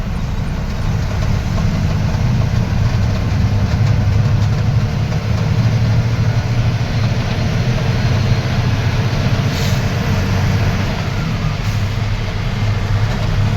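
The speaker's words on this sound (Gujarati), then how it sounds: "મેટ્રો ટ્રેન ચાલુ થઈ જાય છે" A steady, loud rumble of an Indore metro train running, continuous low mechanical drone throughout with no voices.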